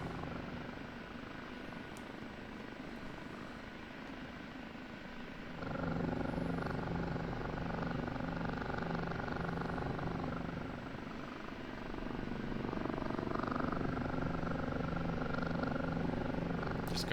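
Steady whirring rotor and turbine drone of an OH-58D Kiowa Warrior helicopter in the DCS flight simulator, moving along a runway, continuous and fairly close, growing louder and fuller partway through, with a voice speaking briefly over it.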